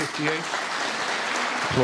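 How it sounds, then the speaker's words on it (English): A snooker crowd at the Welsh Open quarter-final applauds briefly at frame ball, a soft, continuous patter of clapping with a commentator's voice over it at the start and end. "Applause for frame ball."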